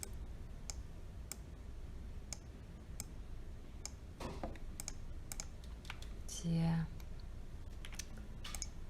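Rapid keyboard taps and mouse clicks come while shapes are drawn in Adobe Illustrator CC, with sharp, irregular clicks in short bursts close to the microphone.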